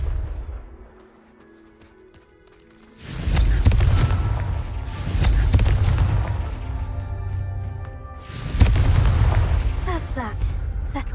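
Confringo fire-blast spell bursts in Hogwarts Legacy: after a quiet start, a heavy boom erupts, followed by two more loud rumbling blasts, each trailing off, with game voices mixed in.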